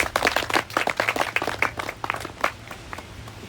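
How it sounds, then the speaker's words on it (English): Wedding guests clap after the couple's vows: a modest, nearby round of individual hand claps with distinct irregular hits that thin out after a few seconds. "Little round of applause for their vows."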